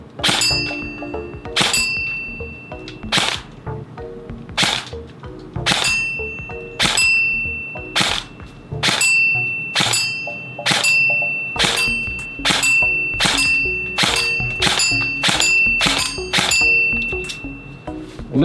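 Electric airsoft gun firing single shots onto a metal target, a series of loud, sharp clangs with ringing tails at irregular intervals, close by, with no talking.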